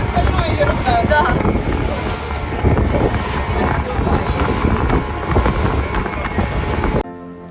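Small boat pounding through stormy seas off Zanzibar, with heavy wind buffeting the microphone, rushing water and a motor drone; loud and continuous, then cutting off abruptly near the end.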